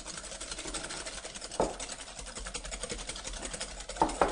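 Eggs beaten with sugar, grated nutmeg and ground cinnamon in a bowl make a continuous fast whirring, rattling whisk sound up close, with a few sharper clinks against the bowl, no talking.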